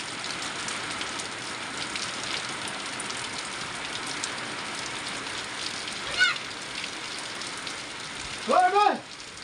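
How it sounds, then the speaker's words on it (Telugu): Steady rain hisses throughout, with a voice briefly heard twice near the end. "మనకు వర్షం అయితే పడుతుందండి."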